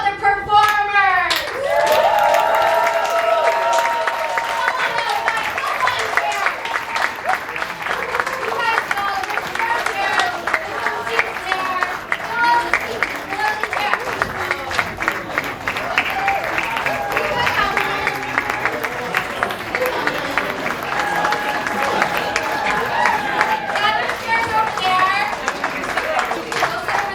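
A live improv showcase audience claps and cheers as performers come out, sustained applause filling the room while a host's voice talks over it.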